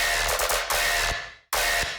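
Heavy tearout dubstep bass drop built from original bass samples, played with no high-pass filter: loud, dense, distorted growling bass with booming low end, chopped into hits, a brief silent gap, then slamming back in.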